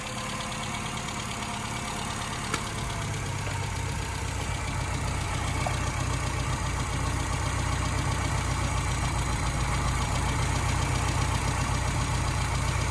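Car engine idling steadily during a timing light test, with the ignition timing set very retarded; a constant, even drone with a faint rhythmic ticking and no talk throughout.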